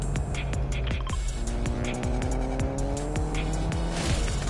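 A car driving in a video game, with a loud steady engine, repeated tire squeals and rising revs throughout, no voices.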